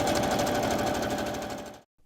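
A sewing machine stitching fast and hard, a steady rapid mechanical chatter heard close up for under two seconds before stopping abruptly.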